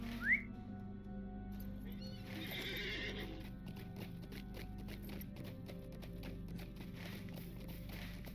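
In the video game Lord of the Rings Online, a horse whinnies briefly near the start, then hooves clip-clop steadily under a constant low hum and faint ambient tones.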